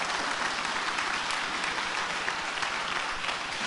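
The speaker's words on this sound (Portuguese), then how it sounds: "Pode aplaudir ele." A church congregation breaks into loud, dense applause during a preacher's sermon, many hands clapping together in a full, sustained roar that holds steady throughout.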